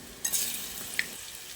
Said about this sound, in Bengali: একইভাবে বাকি পকোড়াগুলো আমি ভেজে নেব